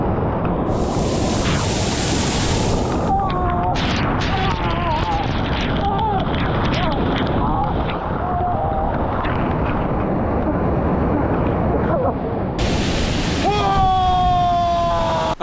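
A waterfall on Mount Rainier roars loud and close, a constant broadband rush that never lets up, while people talk over it and occasional high tonal sounds cut through.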